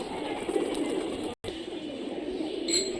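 Pigeons of an old Rajshahi Giribaz breed coo steadily in low, rounded murmurs, with a brief dropout midway and faint higher chirps near the end.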